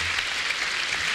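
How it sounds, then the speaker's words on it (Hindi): Applause from a crowd at a saints' gathering at Patanjali Yogpeeth in Haridwar, a brief, dense, continuous burst of clapping throughout the short clip. "इस अपने आनंद के लिए जोरदार आप लोग तालियां बजाओ"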